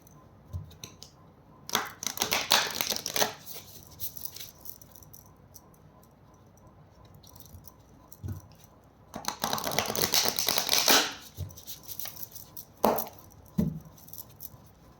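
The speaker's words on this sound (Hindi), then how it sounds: "मैं अभी शफल कर रही हूँ।" Tarot cards being shuffled by hand in two long bursts of crisp riffling and rustling, with a few soft taps and clicks between, close up and with no talking.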